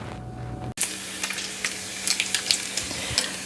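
Bacon frying in a pan for a country biscuits and gravy breakfast, a steady close sizzle with scattered crackles and pops that rises sharply after a brief silence at the start.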